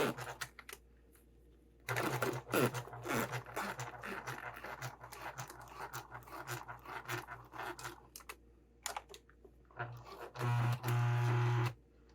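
A sewing machine runs backwards over thick fabric while sewing a sling, its stitching coming in loud bursts separated by pauses, with a steady motor hum near the end.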